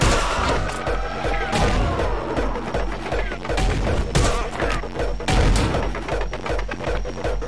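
Dense rapid gunfire from the action game Anger Foot, loud continuous volleys with booming impacts and crashes layered over game music, no clear pauses throughout.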